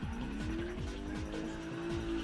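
A competition drift car powered by a Toyota Lexus V8 engine roars at high revs while its tires skid and squeal, engine pitch rising and dipping through the slide in loud, continuous noise.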